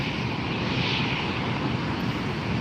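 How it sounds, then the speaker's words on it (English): A Delta Airlines Boeing 737 taxiing at LAX airport, its jet engines a steady broad roar that stays loud and even throughout, heard from nearby without talk. "Delta Airlines making the turn, taxiing."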